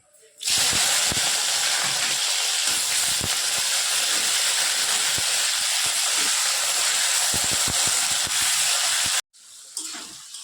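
Chopped capsicum, onion and tomato frying in oil, a loud steady hiss of sizzling with scattered clicks of stirring, cutting off abruptly near the end before a faint resumption.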